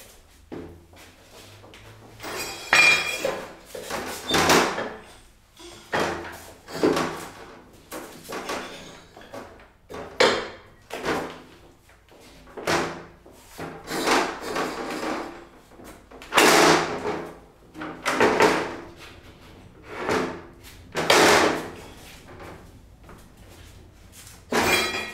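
A heavy interior door is lifted off its hinges using a panel lifter, producing a series of irregular wooden knocks, scrapes and clunks at close range, with rustling between the impacts and no talking.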